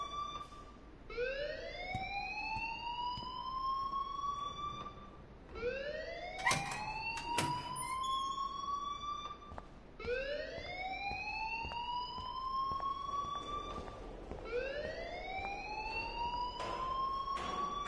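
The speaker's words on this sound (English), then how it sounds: "please turn off that alarm since that's your job." A school alarm in the game Life is Strange wails in four long repeating rising sweeps, each climbing in pitch then cutting off, loud and continuous with brief clicks between cycles.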